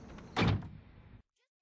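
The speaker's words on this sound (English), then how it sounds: "I activate the door like this, and boom!" A closet door from Monsters Inc activates with a quick whoosh and thunk over a low hum, then cuts off sharply into silence.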